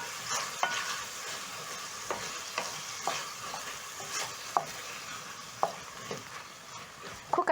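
Red and green onions, garlic and ginger stirred in a sizzling pan, a steady frying hiss punctuated by regular spatula scrapes and taps about every half second, close and moderately loud, no talk.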